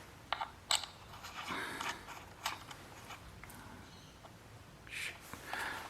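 Small parts being screwed onto a DJI Mini 2 drone by hand: faint, soft creaks and ticking clicks of a screwdriver and plastic, scattered and quiet with room noise, no talk.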